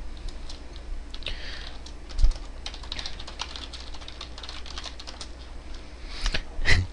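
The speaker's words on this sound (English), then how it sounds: "I've been trying to edit out any typing." Rapid clicking of a computer keyboard during a Minecraft gaming session, steady bursts of close key presses with a couple of heavier thumps, no talk.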